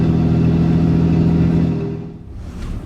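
A truck with a freshly installed 68RFE automatic transmission runs through its gears, a loud steady engine drone holding high before dropping away as it shifts, then rising again, with no voices.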